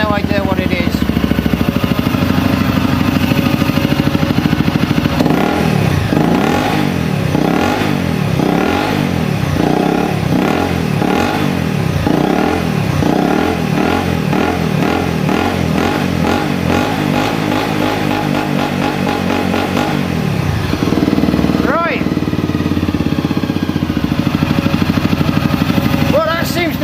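A Honda CRF250L motorcycle engine running at a fast idle, a steady loud mechanical drone with rhythmic rising and falling pulses in the middle, close to the microphone before cutting out near the end.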